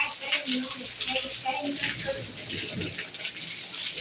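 Steady rain pours down with rainwater running and splashing, a broad continuous wash heard close by, with faint voices mixed underneath.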